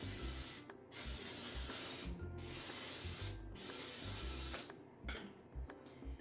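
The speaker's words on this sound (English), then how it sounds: "spray it with some non-stick cooking spray." Non-stick cooking spray hissing out of a can onto a casserole dish in a kitchen, several close bursts of aerosol spray separated by short pauses, ending with a few quicker, choppier sprays.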